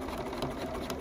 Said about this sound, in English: And I'm gonna lower my presser foot, and now I'm gonna stitch.